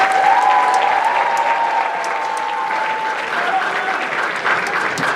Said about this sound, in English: let's clap it up for our finalists